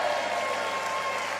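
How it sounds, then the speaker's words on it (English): Steady applause from a crowd, dense and continuous clapping that holds at an even level throughout the short stretch, with no talk on top. "I'm going to give him a round of applause immediately"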